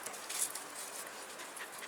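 A dog comes over looking for attention while garlic is being planted outdoors; faint, close-up panting and soft shuffling patter continue steadily, with no talking.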